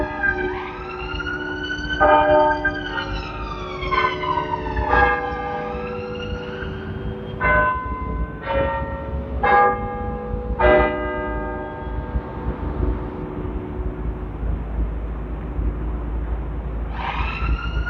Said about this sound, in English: So just chiming for the 3/4 of an hour there.